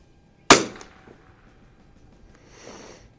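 A single sharp crack from an H&R M-12 .22 target rifle fired at an outdoor 50-yard range, close and abrupt, decaying quickly into quiet with faint rustling afterward.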